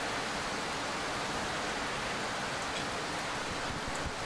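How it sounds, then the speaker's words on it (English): Rain falls in the train-driving video game Steam Train 5.0, a dense, steady broadband hiss that stays loud and even throughout with no talking. "I was really hoping that it wouldn't rain in the game"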